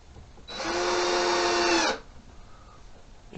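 A power drill spins for about a second and a half at a steady whine while a screw is driven in to clamp a metal guide over a toolbox drawer, then it stops and the room goes quiet.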